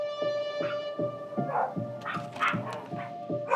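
Several dogs at an animal shelter bark in a quick repeated series at moderate distance, sharp yips and barks coming roughly every half second over a faint steady tone.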